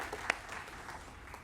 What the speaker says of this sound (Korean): 함께 우리 최고의 영광의 박수를 올려드립니다.